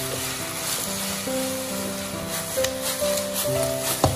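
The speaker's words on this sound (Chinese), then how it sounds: "接下来我们将炸好的藕片全部都倒进锅中，然后继续开中小火快速的翻炒均匀" Fried lotus root slices tossed in sweet and sour sauce in a wok over medium-low heat give a steady soft sizzle, while gentle background music plays throughout.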